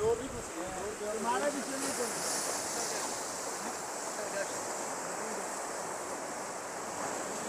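Sea waves breaking on Bhit Khori beach near Karachi, beside cut hills, a continuous roaring surf with wind noise on the microphone and a brief voice at the start.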